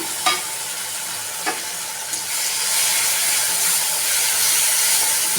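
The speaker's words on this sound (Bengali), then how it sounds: "গ্রেট করা টমেটোটা দিয়ে দিলাম।" Grated tomato dropped into a hot pan with mustard and poppy seed paste for steamed egg curry, a few light stirring taps followed by a loud, steady sizzle close by, with no talking.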